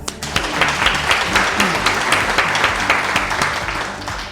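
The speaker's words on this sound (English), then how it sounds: "So give a big round of applause" A crowd at a fitness studio's 12-year anniversary celebration gives a sustained round of applause, full and even throughout, with faint tonal sound beneath the clapping.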